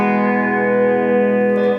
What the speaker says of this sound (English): you can hear I've got just a little bit of delay in there